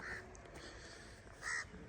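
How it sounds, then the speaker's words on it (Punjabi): Two short caws from a crow in sugarcane farmland on a sunny morning, one at the start and one near the end, fairly faint and distant over quiet outdoor background. "ਕਾਂ ਕੁਛ ਕਹਿ ਰਿਹਾ ਆ"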